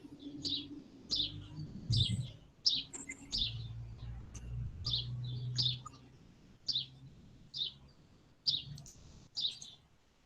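Bird chirp sound effect played from a device, a short high chirp repeated about a dozen times at uneven intervals, fairly quiet over low background murmur and room noise.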